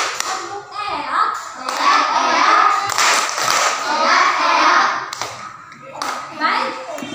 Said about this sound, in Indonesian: Tepuk 1, tepuk 2, tepuk 3, tepuk eak.